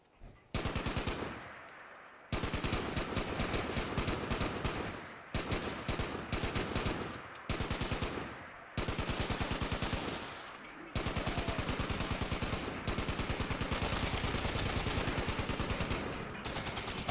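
Gunfire in Fallout 76, long rapid automatic bursts rattling loudly and continuously with brief pauses between volleys, close and dominant.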